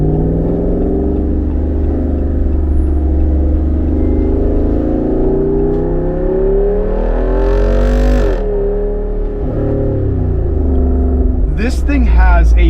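A 2023 Jeep Wrangler 392's V8 engine revs and rumbles, its high-pitched tone climbing and falling in smooth sweeps, close and loud, with a sharper rev burst near the end.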